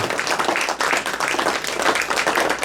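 A church congregation bursts into sustained applause, many hands clapping together in a dense, even roar that holds steady throughout with no speech over it.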